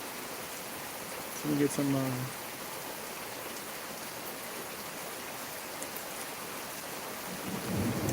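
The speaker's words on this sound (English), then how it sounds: "It's raining a lot." Steady heavy rain hisses through a storm in Chattanooga, Tennessee, with a faint low rumble of thunder near the end; a voice talks briefly early on, while the downpour continues evenly beneath and after it.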